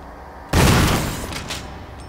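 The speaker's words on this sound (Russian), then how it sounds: "Два выстрела с дробовика и... Три выстрела с дробовика." A single loud shotgun blast in Resident Evil HD Remaster bursts out suddenly and decays into a short rumbling tail, with a quieter clicking follow-up near the end.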